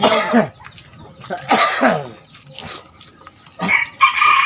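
Close rooster crows ring out in several bursts separated by short pauses, and a few other fowl sounds can be heard in the gaps.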